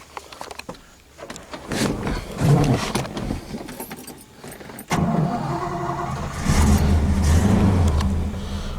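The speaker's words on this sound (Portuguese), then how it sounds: "Ele faz um gló-gló diferente, né?" A black 1977 Dodge Dart Sedan de Luxo with a single exhaust idles and then is revved, its engine rising into a loud, sustained throaty rumble after an abrupt jump in level midway through.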